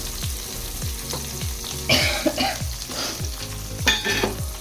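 Fish pieces fry in a pan with a dense, steady sizzle while a utensil repeatedly stirs and scrapes them, giving rhythmic knocks and louder crackling bursts up close.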